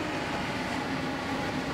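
Trans-Siberian train rolling into a Russian station platform, a loud continuous rumble and rattling roar of heavy carriages close by, with no voices.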